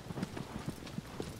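Horse hooves clopping in the game Shadow of the Colossus, a steady rhythmic trot of repeated hoofbeats at moderate volume with no talk over them.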